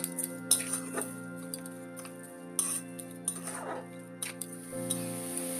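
A metal spoon clinks and scrapes against a bowl or pan while sugar is stirred into a paneer filling for puri, with irregular light taps and clinks against a steady low hum.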